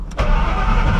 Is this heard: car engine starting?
yes